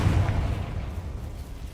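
Confringo blasting spell from a Harry Potter video game, a single low, rumbling explosion that hits at once and then decays into a dull roar across the short moment.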